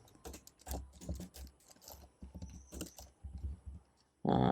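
Computer keyboard typing while a React JS todo list is being coded, with bursts of clicking key presses under the room tone, ending in a sudden louder noise burst.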